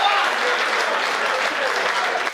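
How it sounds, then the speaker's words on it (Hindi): Audience at a Hindi poetry recital clapping with hands raised, a dense, sustained roar of applause that fills the whole moment and fades slightly at the end. "हाथ खड़े करके तालियां बजाओ जरा एक बार साहब"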